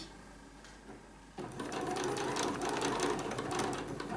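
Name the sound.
sewing machine stitching a triangle pocket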